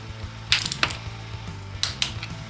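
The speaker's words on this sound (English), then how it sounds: "you can torque up those two tensioners bolts, and those are 12 newton meters" Torque wrench clicking as it tightens two chain tensioner bolts to 12 Nm on a Kawasaki ZX9R alternator chain, two sharp ratchet-like clicks close up over a low steady hum.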